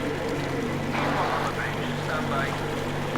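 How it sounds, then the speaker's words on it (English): Boat engine in Metro Exodus runs as a steady, continuous low rumble with wind-like hiss, with voices talking over it throughout. "Kill the engine, guys!"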